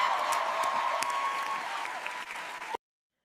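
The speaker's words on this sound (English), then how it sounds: "Everyone give Gummy a round of applause." Sustained applause with crowd cheering, played as a sound effect on a livestream, steady and full for nearly three seconds before cutting off abruptly.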